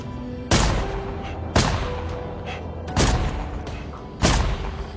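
Four loud, sharp booms spaced about a second apart, each with a short decaying tail, like heavy gunshots fired one at a time.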